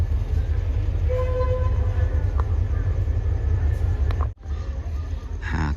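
Thai rapid train 171 waiting at a station during a locomotive change, heard as a loud, steady diesel rumble close by, with a short horn-like tone partway through and a brief dip near the end.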